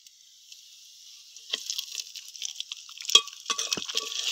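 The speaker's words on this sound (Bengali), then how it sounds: "এবার এই ম্যারিনেট করে রাখা মাংসগুলো হাঁড়ির মধ্যে দিয়ে দেবো।" Marinated mutton dropped into a hot handi pot, starting as faint clinks and then building into crackling, spitting sizzle with a few sharper pops, close and growing louder toward the end.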